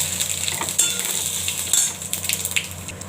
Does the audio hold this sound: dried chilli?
yes